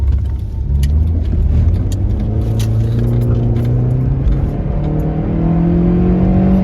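A car engine revs steadily under load with a slipping clutch, a loud close drone whose pitch climbs in repeated smooth sweeps as the revs rise without the car gaining grip.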